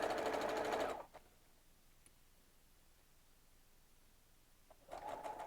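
A sewing machine stitching around a garment sleeve whirs in a short close burst, falls quiet for several seconds, then starts running again.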